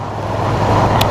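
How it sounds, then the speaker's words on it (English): A car crosses the road close by, its engine and tyre roar steady and loud, swelling slightly as it passes a motorbike. "like this car coming across us now"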